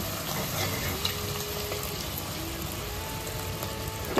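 Spinach (palak) frying in oil with masala in a pan, a constant busy sizzle with faint scrapes and a watery bubbling texture throughout, no talking.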